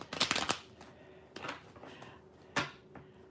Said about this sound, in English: I'm going to draw a few more clarifying cards.